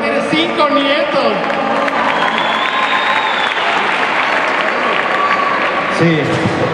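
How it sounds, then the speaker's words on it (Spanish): Crowd in a TV studio auditorium applauding and cheering for a grandmother, loud continuous clapping with a host's voice and some shouts mixed in over the applause. "un aplauso para la abuelita que tiene 5 nietos."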